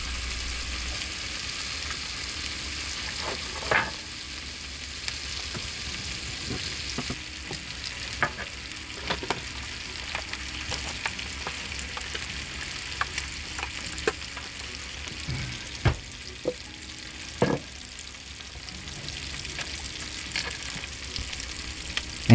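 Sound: steak frying with rosemary and thyme

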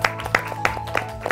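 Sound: applause, clapping

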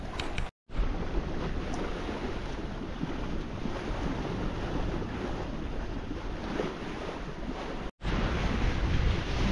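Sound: light wind and ocean waves while sailing

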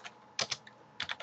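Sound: typing on a computer keyboard

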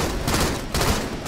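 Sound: gunfire in Halo 2: Anniversary video game

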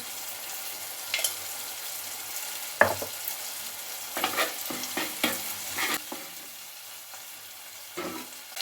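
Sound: ginger garlic paste frying in a pan

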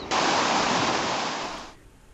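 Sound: wild mountain river rushing

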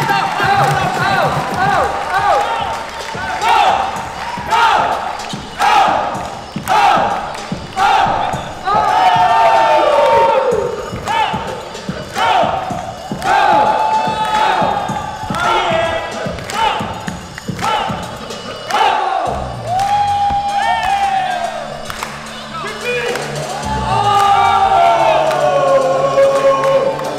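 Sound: crowd applause and cheering

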